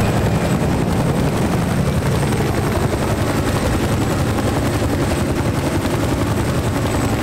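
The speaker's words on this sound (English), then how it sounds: "there's a chopper coming too" A helicopter approaches in a video game, its loud, steady rotor drone filling the whole stretch without a break and with no one talking over it.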